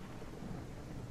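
Steady rain and a low rumble of thunder from the dynamic weather system in the video game Project Renaissance, a continuous dense wash without voices.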